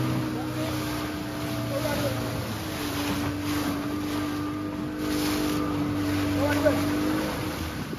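Small whale-watching motorboat running at sea off Mirissa, its engine a steady low drone with wind and water noise, holding even and fairly close throughout.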